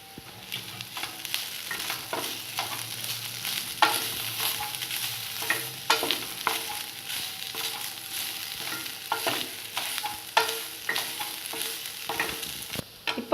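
Cassava pieces fry in oil with grated coconut, a low steady sizzle punctuated by repeated scraping and clacking of a spatula stirring the pan, close up with no talking.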